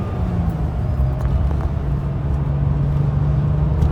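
A 1998 Porsche 911 993 Turbo Coupe in S specification drives at modest speed along a twisty road, heard from inside as a steady loud engine drone with low rumble and road roar, broadly even throughout.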